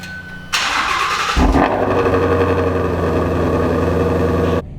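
A Mustang GT350 V8 engine cranks and fires up, then settles into a loud, deep, rumbling idle close by before cutting off abruptly.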